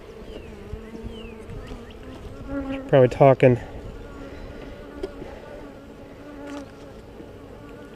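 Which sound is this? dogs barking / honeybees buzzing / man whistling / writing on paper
honeybees buzzing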